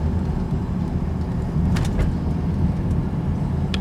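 A 2003 Jaguar X-Type drives along a road with a steady low engine and road drone heard from inside the cabin. A few faint clicks and rattles sit over the constant rumble.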